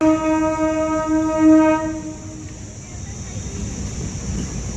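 A train horn blares for about two seconds, then fades into the rumble of a passing train with faint voices nearby.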